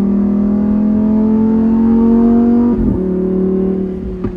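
A Lamborghini accelerates hard, heard loud and close from inside the cabin. The engine revs in a rising, steady roar, dips sharply at a gear change, then climbs again.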